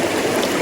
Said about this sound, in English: all this fast water around me